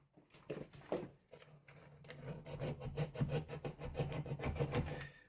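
A utility knife blade scores and saws through plasterboard around a wall switch, a close, dry rasping scrape in irregular strokes that grow denser and more rhythmic toward the end.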